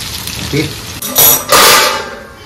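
Prawns frying in a pan over low gas, with a metallic clang and broadband sizzling bursts that swell and fade after a faint voice-like murmur at the start.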